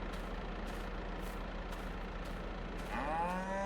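Cattle in a farming roleplay video game give a single drawn-out moo near the end, over a quiet, steady rumble of background ambience.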